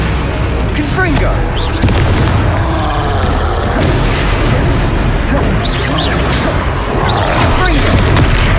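Confringo blasting spells exploding in Hogwarts Legacy, a run of booming bursts and crashes that keep going without a break over busy, loud game effects.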